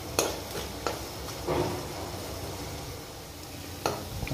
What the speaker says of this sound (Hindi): नमक डालने से इसका जो फ्राइंग प्रोसेस है थोड़ा फास्ट हो जाता है।